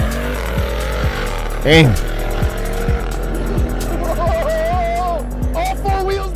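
A Jeep Trackhawk launches hard in track mode with all four wheels breaking loose, its engine roaring steadily up through rising pitch with a brief tire chirp, loud and close, while someone speaks briefly over it.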